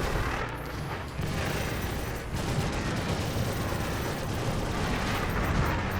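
Dense, continuous weapon fire from an Anvil F8C fighter in Star Citizen space combat: a loud, sustained rattling barrage with heavy rumble, close and steady throughout, without talk.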